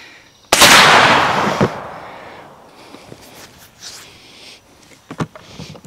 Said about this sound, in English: Let's try 50 with the old cap gun.